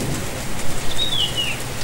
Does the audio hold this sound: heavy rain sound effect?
yes